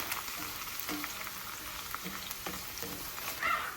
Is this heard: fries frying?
yes